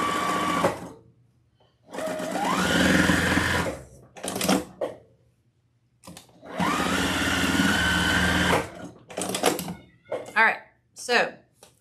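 A sewing machine runs in two long, steady bursts while reinforcing the seams of a handmade fabric peacock, with short stitching spurts and a person talking in between.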